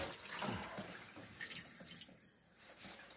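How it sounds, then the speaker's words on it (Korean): Water runs and trickles through a poorly levelled household drain pipe, a soft, fairly faint flow with light splashing that eases off toward the end, with no voices. "물소리도 좋고"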